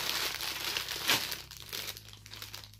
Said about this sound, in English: Uh-oh, I'm ripping inside package too.